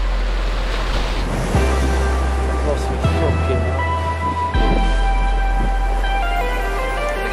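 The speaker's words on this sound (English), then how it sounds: "there's some mad waves coming in today" Big waves breaking on a shingle shore of the Jurassic Coast, a loud continuous surf roar with heavy wind buffeting the microphone and a person talking underneath.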